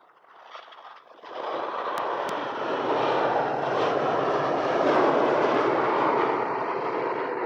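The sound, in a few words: Ryanair Boeing 737 aircraft taxiing at airport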